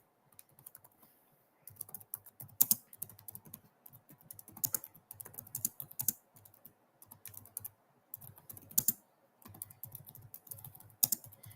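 A computer keyboard being typed on in bursts of quick, close key clicks separated by short pauses.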